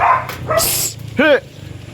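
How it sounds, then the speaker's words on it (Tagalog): A dog barks a few times nearby, short sharp yelps between bursts of background noise and faint talking. "Ingay ko ng aso."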